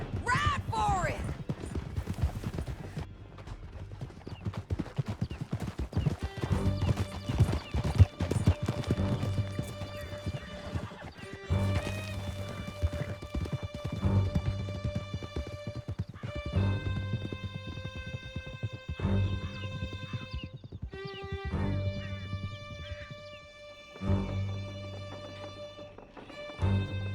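Horses galloping hard through a canyon in Red Dead Redemption 2, with fast rhythmic hoofbeats, neighing and occasional gunshots under tense music, and voices shouting at times.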